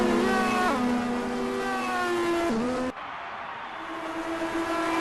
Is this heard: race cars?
yes